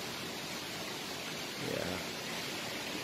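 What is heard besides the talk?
waterfall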